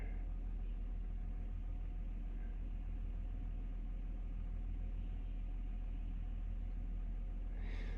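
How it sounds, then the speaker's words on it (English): Tractor engine idling outdoors in snow, a steady low rumble continuing evenly for the whole stretch, close and constant with no talk over it. "That'd be nice plowing snow with this tractor here."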